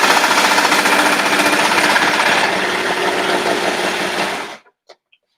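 A sewing machine runs hard on stitch setting 9 making a baby swaddle, a loud, close, rapid mechanical hammering that holds steady for several seconds before cutting off, followed by a couple of small clicks.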